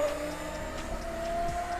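A Traxxas Sledge RC car driving outdoors, its electric motor whining in a steady rising tone with tire noise and rumble, continuous and moderately close, no voices.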